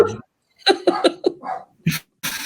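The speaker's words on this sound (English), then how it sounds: "tell Max to be quiet in the background, barking away" A dog gives several short, sharp barks in bursts during a podcast, close and fairly loud, separated by brief silences.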